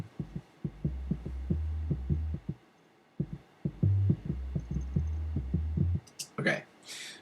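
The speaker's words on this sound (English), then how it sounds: "So this is what the sine wave sounds like." Low, soft synthesizer sine tones pulse in a steady rhythmic pattern, pausing briefly midway, followed by a short burst of noise at the end.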